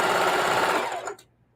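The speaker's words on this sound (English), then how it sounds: "When you're pivoting and continuing to sew on a corner, you leave the needle down to sew a corner." A sewing machine stitches a pillowcase corner in a fast, close whirring run that slows and stops abruptly after about a second.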